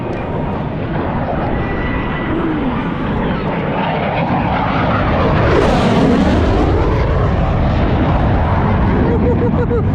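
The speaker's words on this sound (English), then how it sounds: "I think they're gonna come zooming right over the top of us again." Thunderbirds jets roar overhead at the Florida International Air Show, a loud sustained engine rush that swells and peaks as the formation passes close above, with faint crowd voices underneath.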